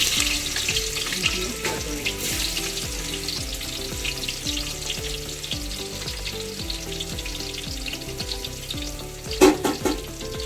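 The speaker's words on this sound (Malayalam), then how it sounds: "ഇഞ്ചി വെളുത്തുള്ളി നന്നായിട്ട് മൂത്തിട്ടുണ്ട്." Ginger and garlic fry in oil with cinnamon, fennel and cloves, giving a steady dense sizzle with a faint repeating mechanical throb beneath and a brief clatter near the end.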